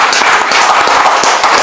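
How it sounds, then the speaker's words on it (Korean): A church congregation claps in encouragement, a loud, dense rush of many hands close by, even and sustained without a break. "우리 박수로 한번 격려하도록 하겠습니다"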